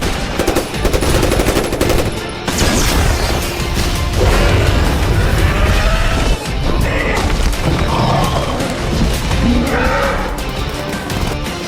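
Modern military gunfire aimed at the Indominus Rex in a Jurassic World movie scene: dense, loud bursts of machine-gun fire and explosive booms layered with a roaring score and crashes, continuous and close.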